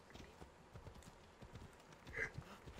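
Horse hooves clip-clopping at a steady walking rhythm in the Assassin's Creed Odyssey video game, moderately loud with a few brighter accents near the end, set against faint ambient game sound.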